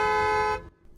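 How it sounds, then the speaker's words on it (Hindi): A Mercedes-Maybach GLS 600 Night Series 2025 sounds its fanfare horn in one loud, sustained, close blast that cuts off after about half a second, leaving a brief quiet tail. "फैन फेयर हॉर्न है"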